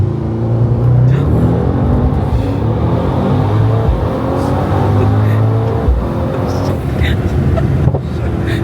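A tuned Mercedes-AMG GT63s launching from inside the cabin, a loud sustained engine roar with rising harmonics as it accelerates hard, road and wind noise beneath it.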